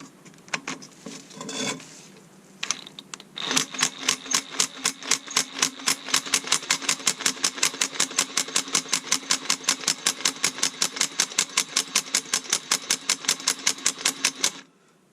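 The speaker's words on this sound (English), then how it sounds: "take an impact, put it at the lowest setting, and just let it slowly bounce off the anvil" An impact wrench on its lowest setting hammering a broken exhaust stud, a fast, even rattle of dozens of close, sharp blows that starts after a few scattered clanks and runs steadily until stopping abruptly near the end.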